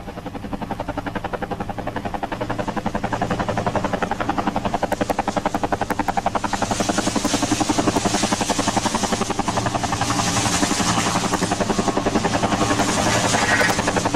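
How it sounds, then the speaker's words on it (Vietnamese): A helicopter's rotor chops steadily and loudly throughout, a continuous pulsing thrum with broadband engine roar, no voices. "Tại sao lại có trực thăng?"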